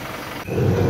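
A Toyota Kijang Innova Reborn 2.4 G automatic diesel from 2023 runs with a steady low engine hum that grows slightly louder and rougher midway, close and continuous.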